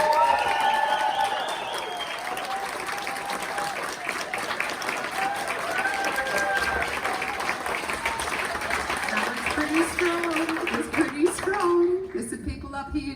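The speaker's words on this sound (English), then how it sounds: "Applause for the affirmative" A student-versus-staff university debate audience in Newcastle applauds the affirmative team, a steady, fairly loud wash of clapping and crowd noise with voices mixed in, dying away near the end as a voice takes over.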